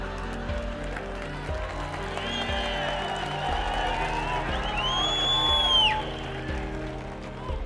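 Crowd applause at a public talk, steady and moderately loud, with a rising whistle or whoop near the end over a rhythmic low background.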